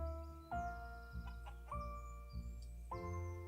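Chickens in the farming video game Equilinox: a few distinct, tonal clucks and squawks in a rough sequence, close and clear against a quiet background.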